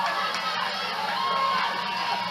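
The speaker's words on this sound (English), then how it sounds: "what do you call that, a raucous crowd?" Raucous crowd at a 1999 high school football game between Kannapolis and NW Cabarrus, a loud continuous wash of cheering and shouting in the stands, steady throughout with children's voices mixed in.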